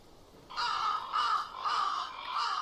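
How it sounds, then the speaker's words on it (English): Crows caw in the video game The Last Door, four loud harsh calls in a steady rhythm, close and alone with no talk. "These crows are too vicious. Getting close could be dangerous."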